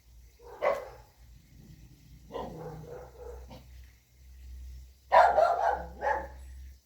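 A farm dog barking over and over outdoors: several bursts of barks and growly yaps, fairly near, with quiet pauses between them and no talking.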